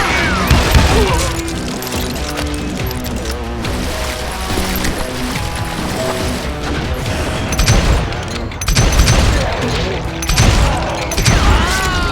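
Rapid gunfire in the Call of Juarez: Gunslinger video game: loud volleys of shots and crashes over a music-like bed, with repeated bursts and sharp impacts throughout.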